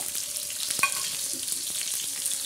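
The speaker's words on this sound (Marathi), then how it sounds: "आता आपण कांदा टाकला आहे तव्यावर भाजायसाठी" Onions sizzle and crackle in hot oil on a pan, a steady close frying hiss with occasional sharper pops and a stirring scrape.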